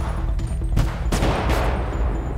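Gunfire rattles in the GTA V zombie mod game, a few sharp shots cracking loudly over a dense, rumbling background of game noise.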